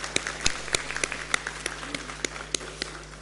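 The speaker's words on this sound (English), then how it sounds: "let's all give him a big round of applause" Audience applause following a seminar announcement, sparse and scattered claps with distinct individual hits over a light background, fairly quiet and steady throughout.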